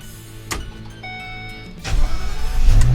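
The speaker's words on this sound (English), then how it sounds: "start the vehicle" 2016 Coachmen Freelander RV engine starting: a click and a chime, then the starter cranks and the engine catches into a loud, close idle.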